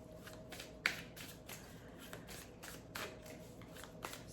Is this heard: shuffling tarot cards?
yes